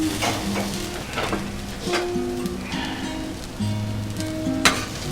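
Onion fries in a pan for a cheesesteak, giving a steady close sizzle with crackles and a few scraping stirs, and no talk.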